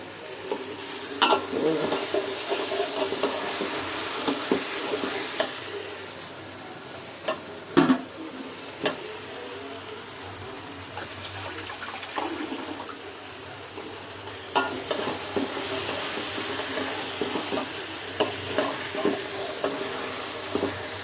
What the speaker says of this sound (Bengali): মুরগিটা দিয়ে ভালো করে কষায়া